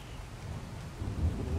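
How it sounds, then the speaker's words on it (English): Steady rain with low rumbling thunder in the video game Ark, a dense continuous wash that swells slightly louder toward the end, with no speech. "I can't hear over the rain."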